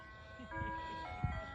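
An ice cream truck's jingle plays as it approaches, with sustained melodic tones over low background rumble, a brief thump near the end and faint voice-like sounds mixed in.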